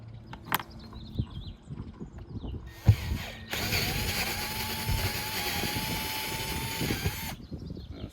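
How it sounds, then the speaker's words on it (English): A rivet gun pulls rivets during a Furrion RV air conditioner install, making clicks and ratcheting snaps followed by a sustained loud mechanical whir, close by and with no talk. "the jaws of the rivet gun grab onto it because it's pulling it through"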